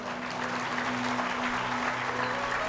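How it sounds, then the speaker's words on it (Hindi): A crowd at a spiritual discourse on the Bhagavad Gita claps loudly and continuously, a dense, sustained roar of applause with a low steady hum beneath it. "अपने भाग्य के लिए जोरदार ताली बजाइए"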